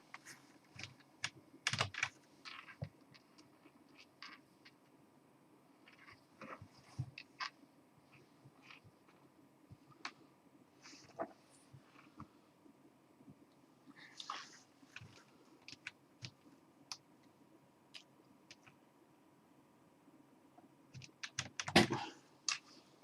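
Typing on a computer keyboard: faint, irregular keystrokes come in short bursts and pauses, ending in a louder, denser flurry of clicks, with no speech.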